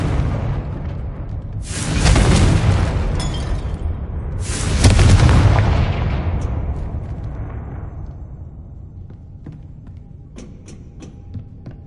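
Two heavy booming blasts from the Confringo fire spell in Hogwarts Legacy on PS5 roll out about two seconds apart, each trailing into a long fading rumble with faint crackles.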